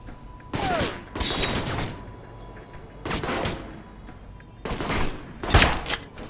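Rifle fire in Alpha Protocol comes in several loud, close bursts of rapid shots separated by short pauses, sharp and crackling, with no one talking.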